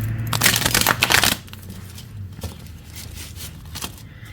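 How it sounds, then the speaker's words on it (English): A deck of cards is shuffled vigorously during a card reading, giving a loud, dense riffling burst of about a second, followed by quiet handling noise. "let me give it a good shuffle"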